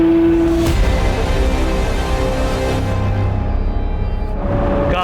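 A loud Ferrari 812 GTS V12 with a Novitec sport exhaust roars steadily and close, its deep rumble holding a constant, full tone throughout.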